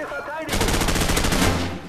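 A rapid burst of automatic gunfire in Call of Duty 4: Modern Warfare, loud and close, lasting about a second and a half after a short quiet lead-in.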